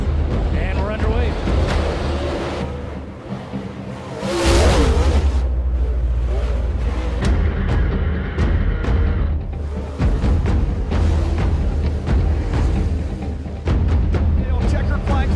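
Super late model dirt race cars roar through a heat race at the Gateway Dirt Nationals, a loud, continuous engine drone that swells and fades as the pack passes, with a voice speaking over it.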